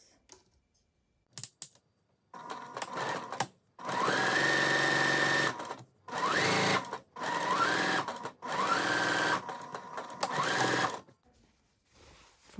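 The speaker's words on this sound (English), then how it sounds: "I'm going to sew along the smaller curve, the interior curve, on the front piece." Domestic sewing machine stitches a curved seam on the front piece of a pair of shorts, running in several close bursts of rapid whirring separated by short pauses.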